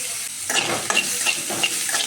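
Onions sautéing with a pinch of salt in a pan for a drumstick leaf curry give a close, crackling sizzle with several scraping stirs of a spoon.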